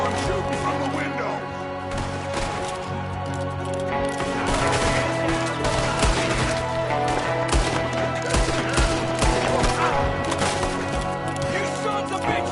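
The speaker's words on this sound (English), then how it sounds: "Shooting from the window." Rapid gunfire rattles through a Red Dead Redemption shootout, shots from a window mixed with a dense game soundtrack and ambience, continuous and loud for the whole stretch.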